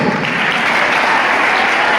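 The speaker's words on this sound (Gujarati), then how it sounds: "આપણે જોરદાર તાળીઓથી વધાવીશું." Dense, continuous applause from an audience at a high school farewell function, loud and even for the whole stretch with no talking over it.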